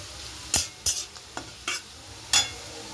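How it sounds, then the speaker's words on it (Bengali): Chicken frying in a pan with refined oil and ghee, heard as a faint background sizzle broken by five or six sharp scraping stirs spaced irregularly, with no talking. "ঘি দিয়ে এটাকে ভাজছি"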